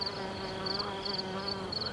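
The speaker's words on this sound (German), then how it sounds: "Die Biene ist jetzt natürlich am fleißigsten. Und alles summt und brummt." Bees and other insects buzzing on a hot summer day, a dense steady drone with pulsing higher whines, close and continuous throughout.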